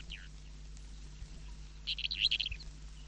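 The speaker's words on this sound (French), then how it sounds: "un matin, il entendit les oiseaux chanter" Birds chirp and call in short, faint bursts over a quiet, steady low background hum, with a brighter cluster of calls near the end.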